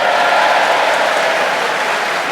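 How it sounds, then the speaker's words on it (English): Big audience applause at a Brexit debate, a dense, loud, sustained wash of many hands clapping together from a full room, steady throughout with no talk over it. "A huge round of applause for our wonderful debaters"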